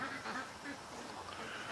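Ducks quack faintly in a quiet farmyard near a barn, a few soft calls buried in steady background noise.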